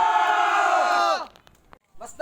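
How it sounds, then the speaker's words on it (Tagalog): A group of Mactan warriors under Lapu-Lapu lets out a long, loud battle cry of many overlapping voices. The shout holds steady, then trails off after about a second, leaving faint scattered noises and a brief voice at the end. "Ang mga mandirigma ni Lapu-Lapu ay tumugon ng isang mahabang mga hiyawan"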